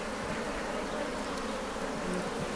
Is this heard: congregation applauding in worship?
no